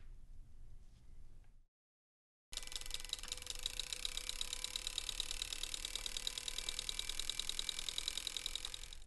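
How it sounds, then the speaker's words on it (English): An engine runs under Drivven engine control, with its spark plugs and fuel injectors firing in a fast, steady mechanical ticking and buzz after a brief silence, close and even throughout. "What you'll hear as I turn it on is the actual firing of the spark plugs and the fuel injectors"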